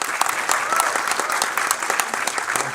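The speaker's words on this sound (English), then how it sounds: "And can I get a round of applause for these young folks?" A congregation at a Sunday evening church service with a band claps vigorously in a thick, continuous round of applause, loud and close, with some voices mixed into the clatter.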